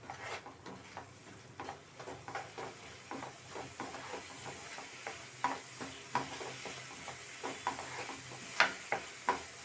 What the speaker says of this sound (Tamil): இது எல்லாத்தையும் சேர்த்து நல்லா மிக்ஸ் பண்ணி விட்டுக்கலாம்.